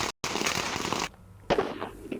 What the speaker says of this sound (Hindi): आतिशबाजी की गई है वैभव के होम ग्राउंड में।